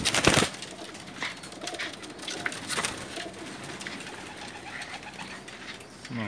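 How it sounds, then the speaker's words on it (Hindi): Jaunsre Teddy pigeons coo softly in a loft, with low repeated calls and a brief flutter of wings at the start, steady background bird chatter throughout. "बहुत ही प्यारे कबूतर हैं जौनसरे टेडी।"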